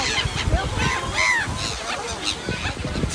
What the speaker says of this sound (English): to take videos and feed the gulls